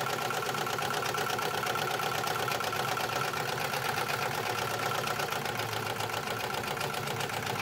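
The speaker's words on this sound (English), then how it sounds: "I'm going to finish this on my serger so you will see how easy it is with it" A serger runs continuously while finishing a seam on a handmade bag, giving a steady, loud, fast mechanical whir with dense rapid stitching ticks and no pauses.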